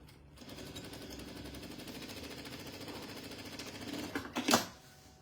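A sewing machine stitches a flat seam on a small, short stitch setting, giving a quiet, steady, rapid mechanical chatter that ends in a louder burst of clatter.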